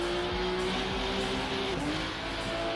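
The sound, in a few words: Porsche car engine heard from outside in Rennsport video game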